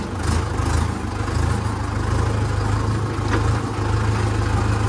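A tractor engine runs steadily at close range, a continuous low rumble with a throbbing beat that holds level throughout, with no talk over it.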